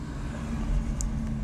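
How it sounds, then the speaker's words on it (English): A noisy, rough-sounding car passes on the road outside, a steady loud low rumble lasting the whole moment. "Why is there someone with such a lousy car?"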